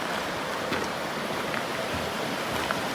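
Belfast Creek flows beneath a pedestrian bridge on a Virginia hiking trail, a steady, fairly loud rushing wash with faint scattered splashes and no talking.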